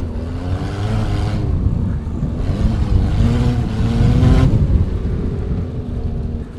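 A rallycross prototype car, heard from on board at a cross festival, accelerates hard through second and then third gear, its loud engine note rising and dropping between shifts.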